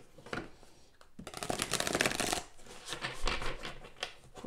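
Tarot cards being shuffled by hand, a dense papery riffling and rustling that swells to a steady burst in the middle, then continues in uneven flicks with no voices.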